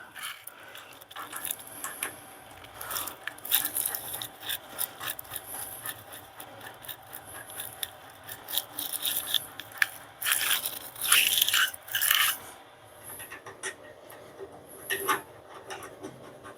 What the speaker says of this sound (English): I'm just going to nip these bolts on.